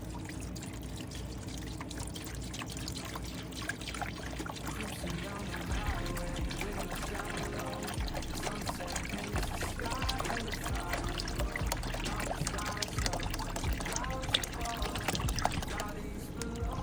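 A gallon of distilled water poured into a container, a continuous close trickling and splashing stream over a long stretch, with steady broadband noise throughout.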